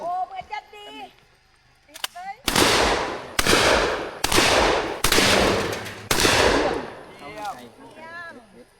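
Five loud gunshots fired at a shooting range, evenly spaced about a second apart, each sharp crack trailing into a long ringing decay, with speech before and after the volley.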